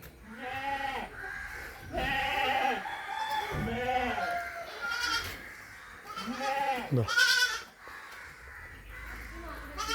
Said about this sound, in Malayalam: എൻ്റെ വലിപ്പമുള്ള വലിയൊരാട് കേട്ടോ